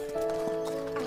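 A horse, heard briefly as soft hoof clip-clops and faint snorting over a droning musical tone in a fairy-tale setting.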